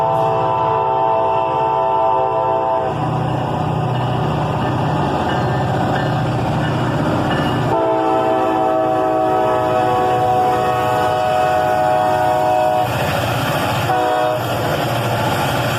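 A freight train with three EMD locomotives, a GP38-3 leading a GP40-3 and a GP40-2, rolls past close by. It gives a loud, sustained rumble with long horn blasts and no talking.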